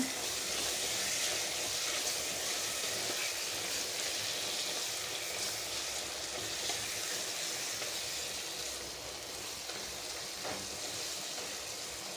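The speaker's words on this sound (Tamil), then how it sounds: "இந்த தக்காளியை போட்டுக்கலாம் கொஞ்சம் உப்பை போட்டுக்கலாம் போட்டு நல்லா வதக்கி விடுங்க" Tomatoes and salt sauté in a hot pan for a home-style chicken biryani, giving a steady, loud broadband sizzle and hiss that continues without a break and eases slightly toward the end.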